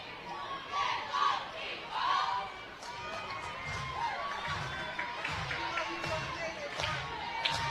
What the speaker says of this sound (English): Sooner fans are going to have red spots on their hands from these clapping nonstop.